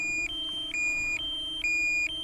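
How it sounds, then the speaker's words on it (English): A DJI Mini 2 drone sounds its low-battery warning, a repeating high electronic beep in a steady rhythm, about five tones in quick succession, clear and fairly loud. "See if it even does it with this low battery annoying beep"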